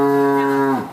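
A dairy cow in a barn gives a single loud, close moo lasting under a second, steady and droning before it drops off at the end.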